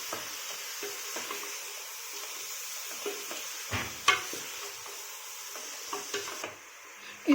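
Country chicken pieces being stirred with onions in a pan, a soft steady sizzle with scattered scrapes and taps of the spoon, close but quiet.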